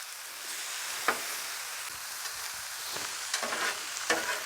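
Chipotle pork loin sizzles steadily on a hot griddle, a constant close hiss of frying broken by a few scraping taps as the pieces are shifted around.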